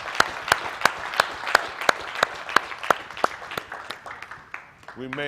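A church congregation claps in unison at a steady beat, crisp regular claps about three per second that loosen and fade before a voice speaks at the very end.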